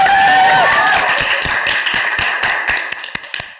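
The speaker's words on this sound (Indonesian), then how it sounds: "Tepuk tangan buat Dava dong." Clapping from a gathering at an Isra wal Mi'raj commemoration, scattered separate claps that thin out and slow down, heard under a tonal sound that fades early.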